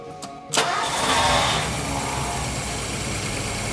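An old Ford Thunderbird engine cranks briefly, catches with a loud burst, then settles into a steady, smooth idle that runs on alone.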